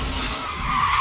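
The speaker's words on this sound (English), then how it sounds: "Suddenly, someone crashes into Michelle's car with tremendous force." A car's tyres screech in a short, sharp skid just before a forceful collision, loud and harsh for about a second with no voices.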